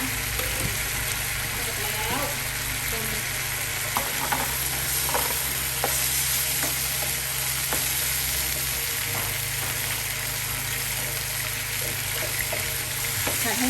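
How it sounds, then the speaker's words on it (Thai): Pork stir-fries in a pan for a bamboo-shoot dish, a constant loud sizzle with light scraping stirs and a faint low hum underneath, and a few soft knocks of the utensil. "ก็ผัดเหมือนผัดทั่วไปเลยค่ะ"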